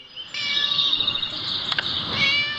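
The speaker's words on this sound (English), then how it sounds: "Shut up, you silly cat." A cat meows in a series of high, drawn-out calls that fill most of the stretch, fairly close and loud, with a brief sharper yowl near the end and no talk over it.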